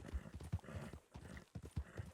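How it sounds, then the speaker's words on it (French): A horse in the video game Red Dead Redemption plods with irregular, close clip-clop hoofbeats, a handful of soft thuds over about two seconds, with a faint voice murmuring briefly. "c'est un cheval qui se repose"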